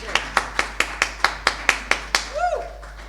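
A church congregation clapping in unison, nine crisp, evenly spaced claps in a steady rhythm, followed by a brief voice.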